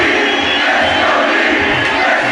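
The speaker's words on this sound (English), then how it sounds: "Now you hear this thousand of crowd emanating Karen Kortas' name here" A loud arena crowd roars and chants a wrestler's name in the Smackdown vs. RAW 2011 video game, forming a dense, continuous wall of voices with no breaks.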